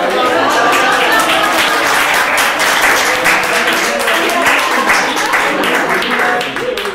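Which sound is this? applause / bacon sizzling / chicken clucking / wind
applause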